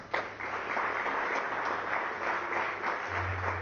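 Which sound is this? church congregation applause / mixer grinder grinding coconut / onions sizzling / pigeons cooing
church congregation applause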